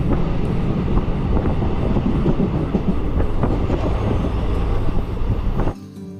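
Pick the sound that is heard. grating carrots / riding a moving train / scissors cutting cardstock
riding a moving train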